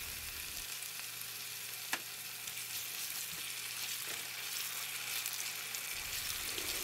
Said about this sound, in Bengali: এখন সবগুলো ভালো করে মিশিয়ে 2 মিনিটের মতো রান্না করব